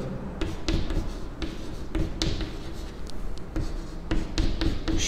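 Marker or chalk writing on a board during a class 9 maths lesson, with a run of short scratchy strokes and taps, close and fairly loud, and no talk over them.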